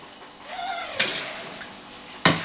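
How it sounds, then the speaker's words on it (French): A spoon clinks against a pot of plum jam cooked with port, two sharp metallic knocks standing out near the first and last seconds, with soft scraping between them. "Voilà, donc là, je mélange bien"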